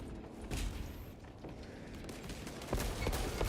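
Bolt gun fire from a Warhammer-style space marine video game, a dense crackling volley of shots with sharper bursts near the start and again toward the end, loud and close with no talk over it.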